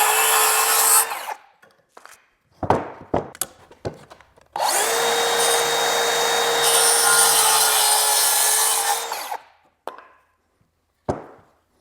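Saw cutting timber frame lumber: short rasping strokes and clunks of wood handling, then a long, loud continuous powered cut lasting several seconds before winding down, followed by a few sharp knocks.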